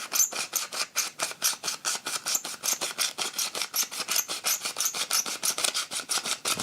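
Film developing reel being twisted back and forth to load 35 mm-style film, a steady run of close, quiet ratcheting clicks and rasps repeating rapidly and evenly throughout, with no talk.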